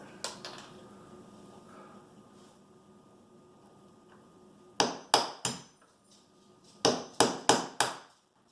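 Hammer tapping a nail deeper into wood trim during a kitchen remodel, a few sharp close knocks early, then a quiet pause, then two quick bursts of three and four crisp strikes.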